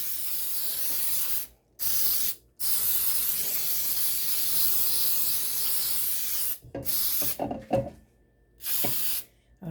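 Cooking spray hisses into a pan in several long sustained bursts separated by brief pauses, close and fairly loud, with a little clatter between sprays.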